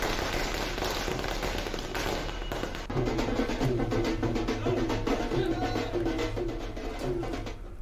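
Supporters in Madhya Pradesh celebrate election ticket news during the 2023 campaign with a continuous crackle of firecrackers, dense and steady throughout, while a voice speaks over the popping in the second half.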